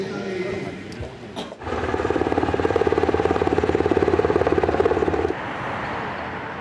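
A helicopter at the 2010 Seoul G20 summit, beside a rescue helicopter and a small unmanned reconnaissance helicopter, gives a steady rhythmic rotor thrum that starts abruptly and runs loud and close for several seconds before easing into a lower engine drone.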